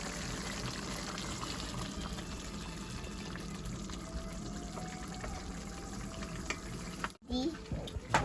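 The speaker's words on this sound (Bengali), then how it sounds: "এখন আমি দই দিয়ে দিব।" Yogurt goes into hot oil in a pan while cooking chicken Murgh Musallam. A close, steady sizzling hiss runs throughout, briefly cut off near the end before a few clattering sounds.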